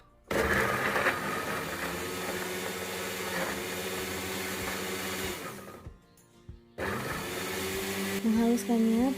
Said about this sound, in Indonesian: Menghaluskannya pakai minyak ya teman-teman, pakai minyak goreng.